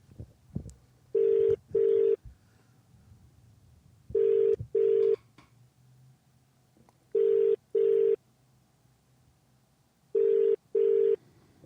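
A telephone ringing with paired electronic tones, four double rings spaced evenly about three seconds apart, clear and fairly loud over a faint background hum.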